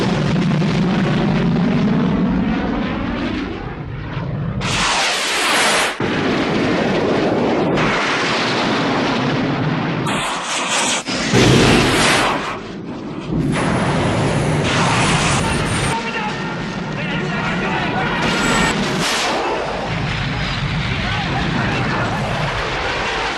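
Airplane action scene from the James Bond film Octopussy, a loud, continuous roar of aircraft engines and rushing wind with sharp bursts and impacts throughout, with voices talking over the top.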